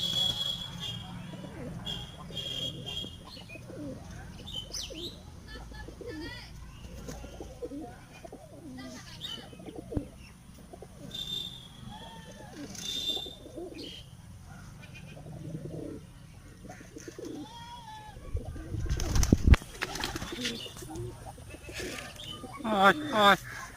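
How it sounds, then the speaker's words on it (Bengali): A flock of pigeons coos in soft, repeated throaty rolls at close to moderate range, with a few flutters and bumps, while a person speaks intermittently nearby and a louder knock sounds near the end. "আর বলবেন এই পায়রাগুলো কোন কোন জাতের"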